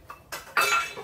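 Dishes clink and clatter while being washed by hand in a home kitchen, a few short, close metallic knocks within a second.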